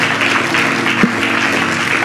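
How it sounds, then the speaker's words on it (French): A church congregation applauds through a sermon, a steady even wash of clapping from start to finish with a brief bump near the middle. "Acclamez pour la parole du Seigneur."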